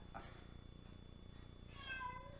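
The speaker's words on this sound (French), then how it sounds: "Mon chat qui veut sortir, toujours et encore." A house cat meows to be let outside: a single clear, close meow near the end after a quiet indoor stretch.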